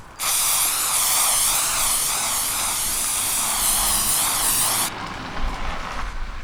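A non-toxic spray chalk can hisses in one steady, loud burst of about five seconds as chalk is sprayed onto a surface outdoors, then cuts off abruptly and leaves quieter background noise.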